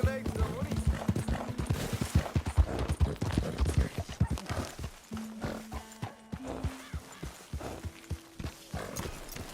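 Rhythmic clip-clop of horse hooves with a whinny in Red Dead Redemption 2, under voices talking, with steady game background tones.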